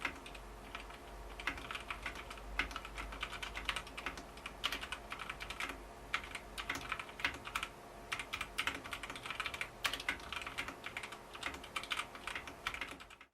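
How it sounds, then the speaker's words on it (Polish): Steady fast typing on a Genesis Thor 303 mechanical keyboard with red switches, dense overlapping key clacks with occasional heavier strokes, close up and with no talking. "Następnie wchodzimy na klawiatury mechaniczne Genesis Tor 303 na czerwonych przełącznikach."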